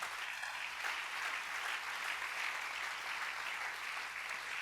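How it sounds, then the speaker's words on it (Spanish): Sustained applause from a church congregation fills the room as a dense, even wash of clapping that holds steady at a moderate distance and fairly low level throughout. "Dale un buen aplauso de alabanza a Jesús."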